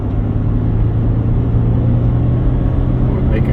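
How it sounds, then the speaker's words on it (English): Engine of a 2008 Mercedes-Benz ML320 with a recently stuck turbo wastegate, pulling under throttle from inside the car, a loud steady droning rumble with a low hum that holds without pause. "So I'm going to get on the throttle a little bit now"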